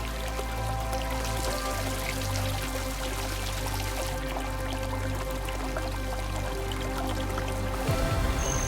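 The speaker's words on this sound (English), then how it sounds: "listening to the flow of the water" Water flows and pours steadily through the Chorro irrigation channel in Istan, a continuous close splashing rush with a constant low hum beneath, lasting the whole time.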